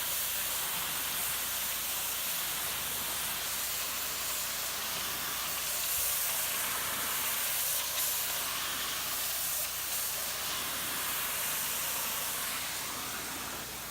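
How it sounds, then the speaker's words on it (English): Continuous hissing spray from a pressure washer applying cleaning solution to cedar, steady and fairly loud, with a broad airy rush that barely changes for the whole stretch. "Oh, we're still spraying the solution on the other areas."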